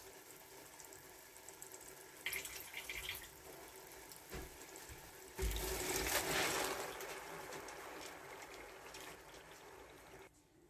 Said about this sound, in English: Now I'm going to pour in the rice.